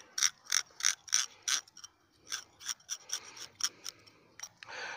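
Knife scraping dark matter away from a stocked trout's spine, a close series of about a dozen quick rasping strokes in an uneven rhythm, no talk.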